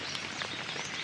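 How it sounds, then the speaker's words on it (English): Steady rain falls during a turkey hunt, a continuous soft hiss of drops with faint bird chirps in the background. "it's friggin' raining"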